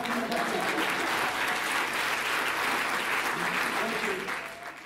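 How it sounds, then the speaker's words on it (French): An audience applauds during an event about art and autism, a steady dense wash of clapping that holds for several seconds before easing off at the end, with some voices faintly mixed in. "On peut l'applaudir."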